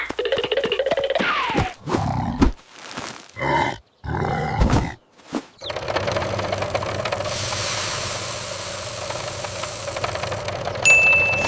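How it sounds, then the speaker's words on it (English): A tractor engine gives short rough bursts and grunts, then settles into a steady rumble that keeps running to the end. "Tractor 2 attaches the seeder while Monkey pours in the seeds."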